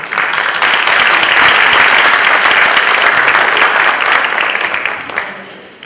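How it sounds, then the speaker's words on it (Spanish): Audience applause fills the room to welcome a speaker at an academic talk, sustained and dense for several seconds before tapering off at the end. "Un aplauso, por favor."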